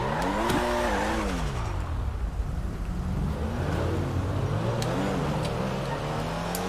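A car in GTA V pulls away hard, its engine revving up through rising pitch sweeps with tire squeal as it speeds off, loud and close, with a faint voice underneath.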